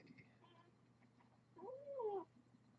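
A cat gives a faint drawn-out meow, with softer sounds before it over a low steady hum.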